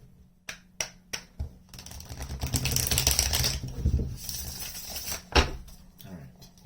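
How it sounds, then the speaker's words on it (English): A deck of tarot cards is shuffled by hand nearby: a few sharp, snappy clicks come first, then a longer, dense riffling burst, and a couple of taps follow at the end. "One more shuffle."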